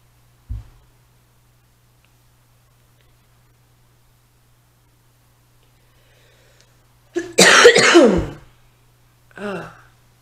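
A person coughs indoors in a quiet room: one short cough near the start, then after a long silence a harsh, louder burst of about a second, followed by a softer final cough.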